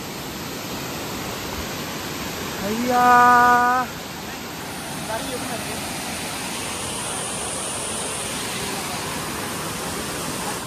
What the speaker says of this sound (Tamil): அருவி அழகாக இருந்தாலும் இது ரொம்ப ஒரு ஆபத்தான அருவி.